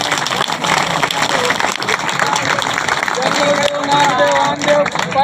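Crowd clapping at a traditional wedding ceremony during a flower-offering ritual to the village deity, loud and sustained, with a sustained instrumental tone entering toward the end.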